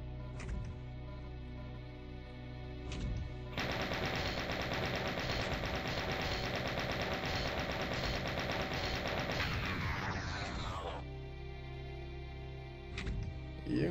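Sustained rapid gunfire in the Doom II video game, a loud continuous mechanical rattle of automatic shots lasting several seconds, preceded and followed by a few isolated blasts.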